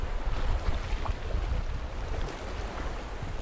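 Small waves lap steadily behind a spot by the water, a continuous low wash and rumble with gentle rises and falls, fairly close and with no other sounds on top.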